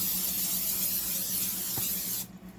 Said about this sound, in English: I'm just going to take some butter flavored cooking spray